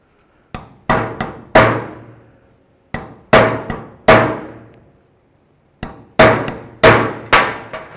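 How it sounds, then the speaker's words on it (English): Metal socket, a 17mm, hammered against a rear brake slider boot on a 2006-14 Dodge Charger: three clusters of sharp ringing clanks, each hit decaying quickly, loud and close with no voices. "Now we're just going to tap it in until this bottoms out."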